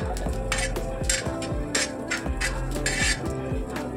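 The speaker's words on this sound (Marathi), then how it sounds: "सगळे जिन्नस आपण व्यवस्थित असे परतून घेऊया" Coriander seeds, black pepper and cinnamon sautéed in a pan for a spice masala, with repeated clinks and scrapes of a spoon against the pan at an uneven rhythm, close and moderately quiet.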